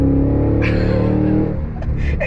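A 2023 Cadillac Escalade-V SUV accelerates hard out of a corner, with a loud, steady engine drone that holds for a second and a half before easing, and a few brief bursts of talk over it.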